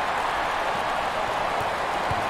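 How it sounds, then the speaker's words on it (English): Steady roar of a basketball crowd at an NCAA Pioneer Conference championship game between Villanova and Xavier, loud and continuous with no talk over it. "Listen to the crowd."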